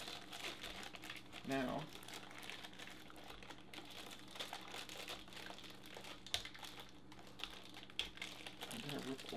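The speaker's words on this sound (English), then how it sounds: "I'm going to rip open this plastic piece" Plastic packaging from a WD My Book Live 2TB hard drive crinkles up close in a couple of short rustling bursts, while someone speaks briefly.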